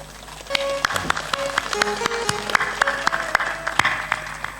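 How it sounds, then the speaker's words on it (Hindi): Scattered, uneven clapping comes from an audience at a spiritual discourse, with individual sharp claps and small bursts over a soft steady background hum rather than a full ovation. "ताली जोर से बजाओ"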